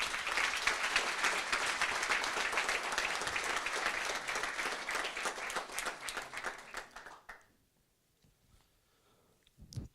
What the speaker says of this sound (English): And please, one more big applause.